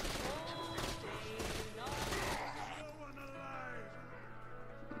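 Video game gunfire in Saints Row: Gat Out of Hell, rapid bursts of shots over game music and effects for the first half, then fading under the soundtrack.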